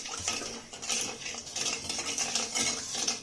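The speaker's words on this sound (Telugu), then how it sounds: "చక్కెర కరిగేదాకా కలుపుతూ ఉండాలి" A spoon stirs sugar into water in a pot, making steady metallic clinks and scrapes against the pot's sides, close and continuous with no talking.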